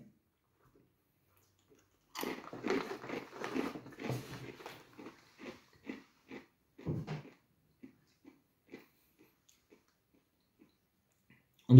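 Close crunching bites into a crunchy Let's Cheese Classic cheese snack start as a dense burst of crackling, then thin into scattered, quieter chews before a sharp sound at the very end.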